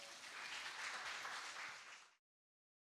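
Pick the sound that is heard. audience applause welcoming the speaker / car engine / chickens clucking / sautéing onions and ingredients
audience applause welcoming the speaker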